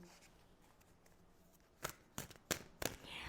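Tarot cards are shuffled and drawn: quiet handling at first, then four sharp, close riffling snaps spaced about a third of a second apart.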